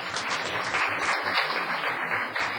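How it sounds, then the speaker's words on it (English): Steady applause from an audience at a town council meeting, a dense, even wash of clapping that continues for a few seconds without pause. "let's hold our applause until the end"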